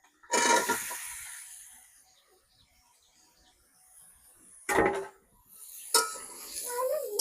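Cauliflower and potatoes being sautéed with spices in a pan, with a few sharp clanks of utensil against metal and scraping stirs separated by quieter stretches, no talking.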